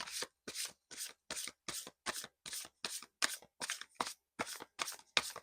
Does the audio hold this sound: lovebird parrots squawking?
no